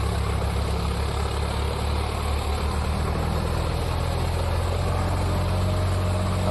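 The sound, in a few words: tractor engine running under load, RPM dropping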